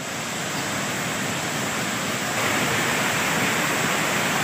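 Floodwater roars down like a waterfall behind the Dandagunda Basaveshwara temple in Chittapur taluk, Kalaburagi, Karnataka, during torrential rain. It is a constant, close, dense rushing wash that swells slightly partway through.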